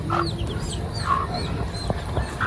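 Native-heritage mix chickens on a farm give short, scattered clucks and chirps, moderately near, over a steady low background hum.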